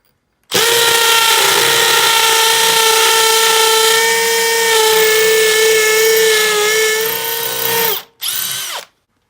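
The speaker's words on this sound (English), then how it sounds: "So I'll just drill another hole real quick and do the same thing." Makita XPH07 brushless hammer drill boring a hole, a loud steady whine that holds for about seven seconds and then winds down, with one short final burst alone.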